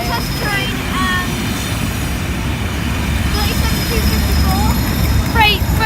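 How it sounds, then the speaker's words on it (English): A Class 37 locomotive hauls a Network Rail freight test train past Lincoln High Street level crossing, a loud, close, continuous rumble with faint squeals. People talk nearby. "This is the 37116 coming from, which is a freight train"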